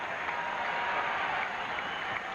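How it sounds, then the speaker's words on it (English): Light, scattered clapping from baseball fans inside a domed stadium during a Cubs versus Phillies game, a soft diffuse patter of applause spread through the crowd, faint and steady. "There's a little bit of clapping"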